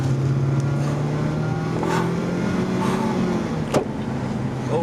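A race car accelerating in paddle-shift mode, heard from inside the cabin as a steady engine drone with rising tonal whine, a couple of brief shift clicks and a sharp transient near the end.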